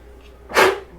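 A single short, sharp sneeze bursts out loudly after a moment of quiet.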